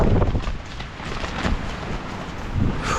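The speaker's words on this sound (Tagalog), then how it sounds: "Sobrang lakas na ng hangin dito, di na kaya ng lamig." Strong, cold wind buffets a microphone at a campsite in Malico, Pangasinan, a steady broadband roar with gusty swells, loud and close, no talking.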